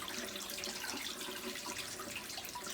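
Water draining out of a Likein foot spa basin, a steady close rushing trickle like a tap running into a sink, even and continuous with no voices.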